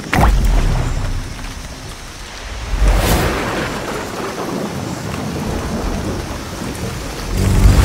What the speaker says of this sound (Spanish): Se desata una violenta tormenta tropical.